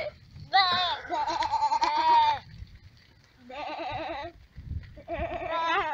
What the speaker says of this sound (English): And this is one sheep.